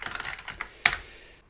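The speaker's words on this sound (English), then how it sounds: "So it's all purely typing on the keyboard." Keys clatter on a vintage DEC VT320 terminal keyboard, a quick run of close, crisp keystrokes followed by a sharper louder press and then silence.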